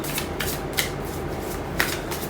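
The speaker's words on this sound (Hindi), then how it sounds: "सो हम यहाँ पे 3 कार्ड्स निकालेंगे" Tarot cards shuffled by hand for a three-card reading, a soft continuous papery riffle with a few sharper snaps standing out, close and quiet with no talking.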